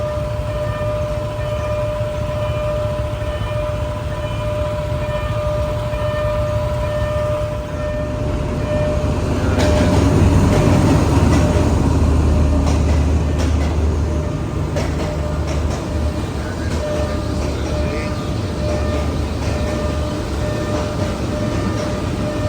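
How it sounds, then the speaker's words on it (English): A train rumbles past in Bangkok, its deep roar swelling midway and slowly easing, with a sustained tonal whine running throughout. "Maybe there's a train going by."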